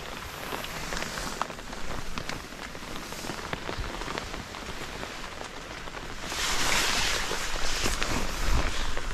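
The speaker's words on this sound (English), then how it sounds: "this rain event was an excellent test for this tent" Rain pours onto a OneTigris Cosmitto 2.0 tent at night, a dense steady hiss of drops drumming on the fabric that swells louder toward the end, with no talking.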